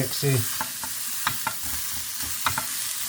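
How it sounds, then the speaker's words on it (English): Onions and chillies sizzle in a pan as they are stirred, several distinct scraping strokes and soft clatters standing out over a constant bright frying hiss. "I'm just going to give these a little bit of a mixy"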